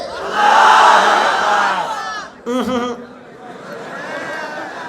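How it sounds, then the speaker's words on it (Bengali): A crowd of married men at a religious gathering in Natore roars a loud, sustained shout of takbir, a broad swell of many voices that fades, followed by a brief burst of voices and a quieter murmur. "বিবাহিতরা একটা তাকবীর দেন, আমি দিচ্ছি। লিল্লাহি তাকবীর।"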